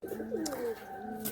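A caged Paschima Kalsira pigeon coos close by in a loft of birds for sale, a low throaty rising-and-falling call lasting about a second, alone without talk.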